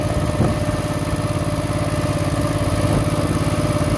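A 1968 Moto Guzzi V7 700 motorcycle engine idles low and steady close by, its rapid, even thrum running on alone without a break.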